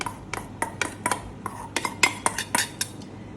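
Spoon scraping and clinking in a pan while crumbled paneer is stirred together with masala stuffing, a quick irregular series of sharp metallic taps and scrapes, close and fairly quiet.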